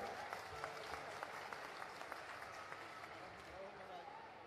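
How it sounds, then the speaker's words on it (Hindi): An audience at a Hindu religious discourse gathering claps in applause, a faint, distant, steady patter of many hands with a murmur of voices underneath. "अब इनके लिए एक बार जोरदार तालियां बजा के सम्मान करें"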